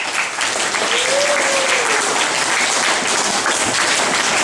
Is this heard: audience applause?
yes